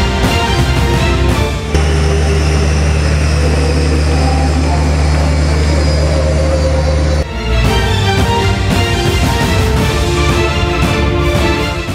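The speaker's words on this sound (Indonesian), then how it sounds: "Berjenis pesawat angkut udara Airbus A400M memiliki kemampuan unik" An Airbus A400M military transport aircraft, propeller-driven, drones with a loud, steady low engine roar that stays constant throughout, broken briefly by a short dip near the middle.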